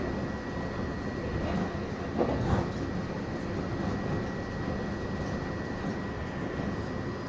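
A Disney World monorail glides along with a steady, broadband rumble and hum heard from inside, constant throughout, with a few faint knocks.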